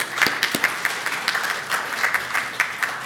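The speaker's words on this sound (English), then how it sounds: "I'd like to thank the audience, just applause." Applause from the audience at a side event on water, a steady patter of many hands clapping with scattered sharper claps standing out, moderately loud and continuing without any talk.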